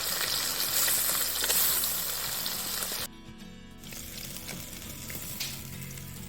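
Amudi fish fry in hot oil with a loud, close sizzle that cuts off abruptly after about three seconds, then resumes more quietly with soft crackling; no speech.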